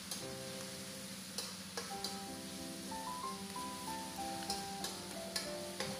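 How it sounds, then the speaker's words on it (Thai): Seasoning sauces, including light soy sauce, are stir-fried in a pan for dry pork suki, with a soft continuous sizzle and occasional sharp spatula taps, while gentle melodic tones sound faintly in the background. "แล้วผัดให้เครื่องปรุงเข้ากันครับ"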